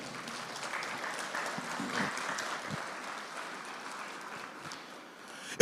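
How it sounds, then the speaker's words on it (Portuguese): A church congregation claps after the Gospel reading during a sermon. The applause is soft and somewhat distant, tapers off gradually, and ends with a brief sharp noise. "vamos aplaudir a palavra do Senhor"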